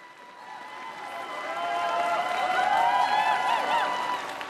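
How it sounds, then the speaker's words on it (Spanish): A Mass congregation in Kaunas, Lithuania applauds Pope Francis, the clapping swelling from moderate to loud and sustained across a large crowd, with faint cheering mixed in. "La comunidad aplaude porque el Papa Francisco ha utilizado la lengua lituana para saludarlos."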